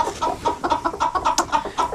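Broody hens cluck close by in a rapid, steady series of short, throaty calls while their eggs are being checked.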